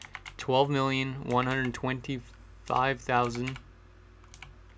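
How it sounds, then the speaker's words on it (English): Computer keyboard keys click softly in the background while someone talks over them, the faint tapping continuing between his phrases. "you could probably hear my keyboard in the background"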